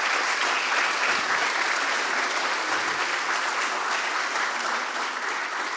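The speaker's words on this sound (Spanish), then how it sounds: "les damos un aplauso" Sustained audience applause fills a room at a book launch, steady and fairly loud throughout with no voices standing out.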